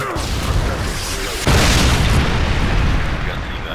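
A Predator missile strike in Modern Warfare 2 on the Sub Base map sets off a loud, broad boom about midway, followed by a sustained rumbling roar over continuous game noise.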